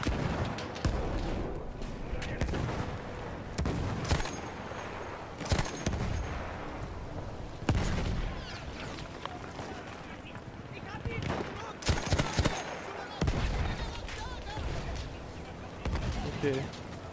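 Gunfire and explosions in a Battlefield 1 battle, scattered sharp shots and heavy thuds spread across the scene, loud and close, with a person talking over the fighting.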